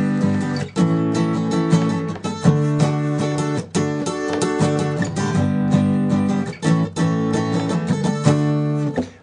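An acoustic guitar plays open position chords transposed up to D, strummed in a steady rhythm with a run of ringing chord changes, close and full with no voice over it.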